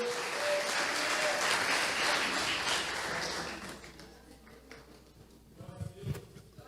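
A church congregation claps and cheers loudly for several seconds at an Easter service, then the applause fades away, leaving a few scattered claps and faint noise.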